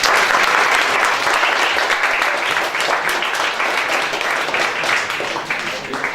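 An audience at a school principal's lecture breaks into loud, sustained applause that lasts throughout and fades slightly toward the end.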